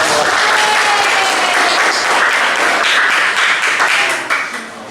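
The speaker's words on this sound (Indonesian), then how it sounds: "Beri tepuk tangan dong." Applause from a classroom audience right after a cream dish is finished, steady dense clapping throughout that thins toward the end, with no talk over it.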